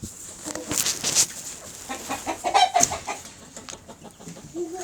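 Farmyard chickens let out of their coop cluck steadily and close by, with scattered sharper squawks and bursts of activity layered over a busy, continuous background.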